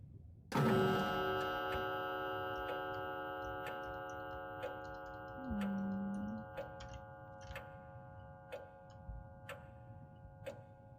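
A clock ticking in the horror video game The Lost Fear: an even, regular tick under a sustained eerie tonal drone, with a brief low tone partway through, the ticks continuing steadily to the end.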